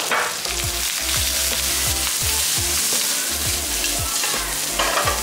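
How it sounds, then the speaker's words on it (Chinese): Duck pieces stir-fried in a wok with dried salted radish, garlic, ginger and garlic shoots sizzle steadily and loudly, while a spatula scrapes and clanks against the pan in a regular rhythm. "蒜头姜炒出味后，来把萝卜干放进去，菜脯、蒜芽， 炒出香味后下鸭肉"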